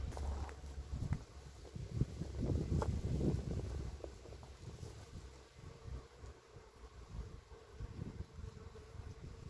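Bees hum at an outdoor beehive with an Asian hornet nearby, a soft steady buzzing that swells briefly near the start, mixed with light wind rumble and no voices.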